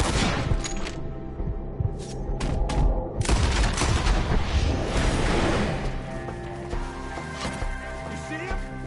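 Rapid gunfire rattles through a firefight in the video game Red Dead Redemption 2, with bursts of shots, booms and echoing blasts over a dense battle backdrop while voices shout beneath.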